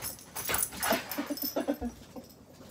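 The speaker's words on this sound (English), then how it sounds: "Oh, dog!" A dog whimpers and whines close by in a run of short high yips and soft cries that rise and fall over a few seconds.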